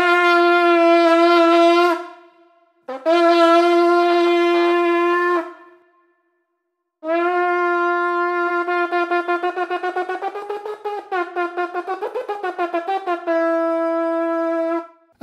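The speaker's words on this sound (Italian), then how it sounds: "Questo è il suono del corno della tomba dei carri di Populonia" An ancient Etruscan bronze animal horn from the chariot tomb at Populonia blows brassy, long steady tones, then a longer passage with fluttering, wavering notes, loud and close with no talking.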